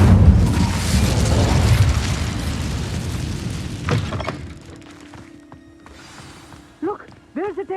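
The Incendio fire spell in Hogwarts Legacy bursts with a loud booming rush that rumbles for a few seconds and fades, followed by a low hum and brief voices.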